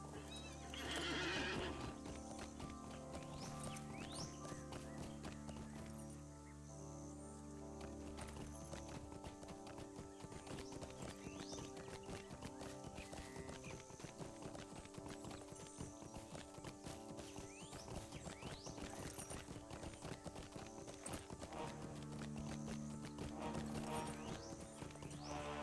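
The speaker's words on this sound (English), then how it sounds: "Let's hop on my horse." A horse in the Lord of the Rings Online game clip-clops at a steady pace, with a whinny at the start and again near the end, hooves continuous and clear over quiet game ambience, no talk.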